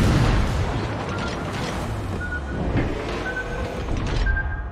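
Torpedo hits rumble against a warship in World of Warships, a dense wall of low booming explosions and bursting noise that stays loud for the whole stretch, with faint tonal alert sounds over the top.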